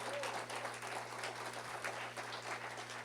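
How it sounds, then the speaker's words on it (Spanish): A church congregation applauds, a dense continuous wash of clapping from many hands that holds steady over a low electrical hum. "denle un aplauso si hay alguien agradecido aquí"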